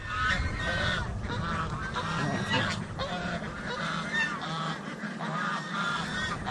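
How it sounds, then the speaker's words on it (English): Several protective farm geese honk loudly and repeatedly, harsh overlapping calls close by, with a steady chorus of honks throughout. "Very, very protective geese."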